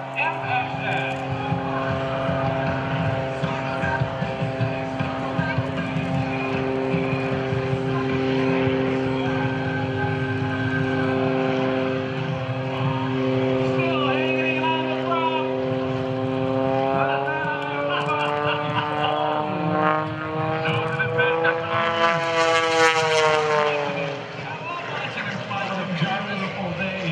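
Air National Guard jet flying at the 2012 Blue Angels Homecoming airshow, a loud sustained engine roar with shifting tones as it passes, heard beneath an announcer speaking over the public address.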